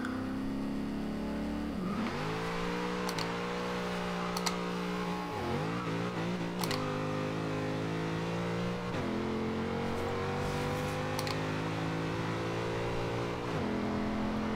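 A 2014 Chevrolet Corvette Stingray accelerates through repeated gear changes in Forza Horizon 2, its engine note climbing and dropping at each shift over about fifteen seconds, loud and continuous with no talking.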